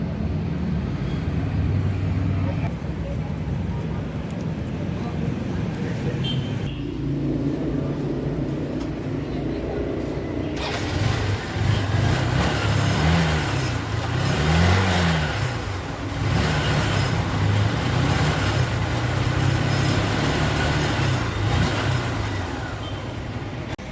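A Honda Unicorn BS6 motorcycle running after its chain was freshly greased, a steady mid-pitched engine drone close by that rises and falls as it is revved, continuing throughout without speech.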